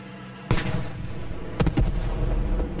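A tank fires high-explosive rounds in a World War II battle video game, two or three loud booming shots with rumbling echo and no talking.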